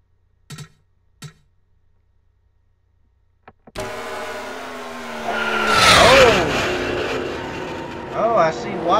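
A race car at Daytona spins out, a sudden loud engine rush followed by a long, wavering tire squeal and skid, preceded by a few faint clicks and silence, with a brief flare near the end.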